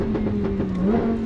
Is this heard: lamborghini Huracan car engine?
yes